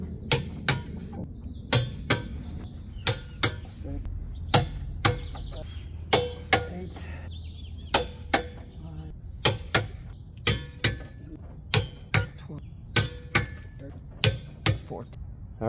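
Torque wrench clicks repeatedly as tow hitch bolts on a Subaru Outback Wilderness are tightened to 77 foot-pounds, sharp regular ratchet ticks about every second, close and fairly quiet, with faint background noise.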